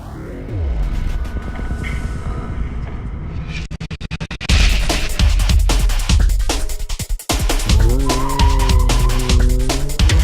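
A race car skids and squeals its tires through a slalom course set out on a large shopping-mall parking lot in a national slalom series round, with loud engine revving and sustained tire screech close by throughout.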